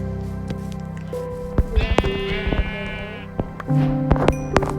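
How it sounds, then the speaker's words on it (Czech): A sheep bleats in a video game in drawn-out wavering calls, with clicks and game sounds around them and a steady hum underneath. "ještě musíme zabít ovce"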